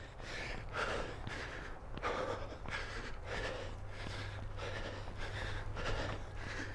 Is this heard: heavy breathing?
yes